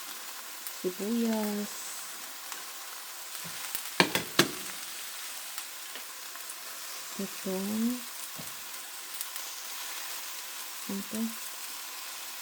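Vegetables sizzle steadily in a hot pan as they are stir-fried for pancit. The soft, continuous crackle runs under brief bursts of speech and a few sharp clinks of a utensil.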